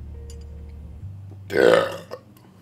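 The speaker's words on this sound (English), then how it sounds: "I burped to that" A single loud, drawn-out human burp of about half a second bursts out over a quiet low hum, followed by a brief smaller sound, with no talking.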